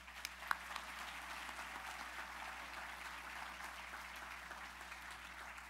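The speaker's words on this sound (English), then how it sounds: "One more round of applause for them." A gala audience applauds a middle school chorus with a faint, distant, evenly sustained patter of many hands clapping, steady for several seconds with no talk.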